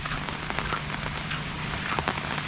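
Rain falls on a market in Khemarat, Thailand, a dense, continuous patter of drops striking surfaces close by, with scattered sharper splashes and no voices.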